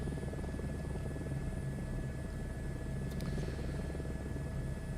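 A simulated MH-60 helicopter flies over the Grand Canyon in Microsoft Flight Simulator 2024. The rotor drones steadily and evenly throughout, a constant low thudding hum with a faint high whine.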